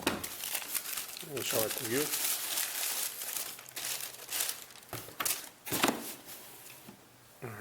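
Recycled paper packed inside a Reebok classic shoe box crinkles and rustles in several bursts as it is handled, close and fairly loud, with someone talking between and over the rustling.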